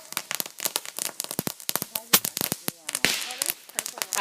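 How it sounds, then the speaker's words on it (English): Bottle rocket fireworks launched outdoors on a fireworks night, a rapid run of sharp crackling pops and bangs with a rising whoosh, close and loud, while people shout and talk around them. "Bottle rocket!"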